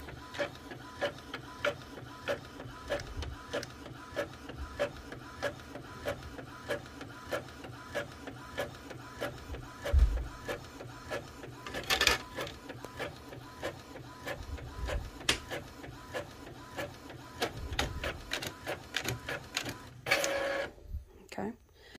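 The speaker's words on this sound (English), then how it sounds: "I'm going to come over here and click print." An inkjet-style printer runs a print job on printable vinyl, giving a steady, repetitive mechanical whir and clatter with a few sharper clicks and carriage knocks, heard up close throughout.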